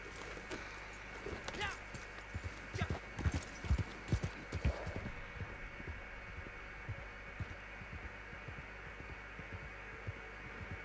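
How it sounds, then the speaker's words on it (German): Horse hooves clopping in a steady walking rhythm while riding, fairly close and clear over a low hum, stronger in the first half and then fading softer. "Da reiten wir mal ein bisschen mit dem Pferd."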